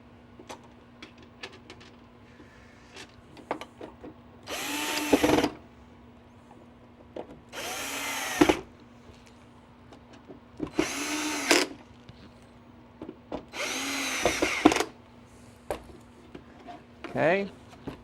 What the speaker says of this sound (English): All right, screws back in.